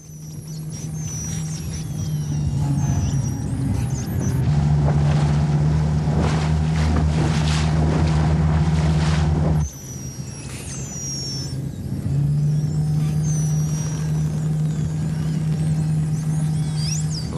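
Motorboats run at speed on open sea off the Marquesas Islands, a steady loud engine drone mixed with wind buffeting and splashing waves, continuous throughout with a brief dip near the end.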